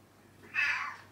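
A cat gives a single short meow, fairly faint against quiet room background, rising and fading within about half a second.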